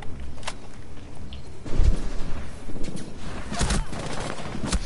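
Gunfire from a teammate in Rainbow Six Siege crackles in scattered bursts of shots against busy in-game background noise, with a heavier thump near the middle.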